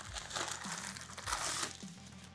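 Recycled paper packaging is crumpled close by in a few crisp, crackling bursts with brief pauses between them.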